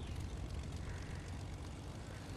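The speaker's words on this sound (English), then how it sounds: "how do I fly the plane?" A propeller airplane engine in a video game drones steadily and loudly, a dense, unbroken roar that stays even throughout.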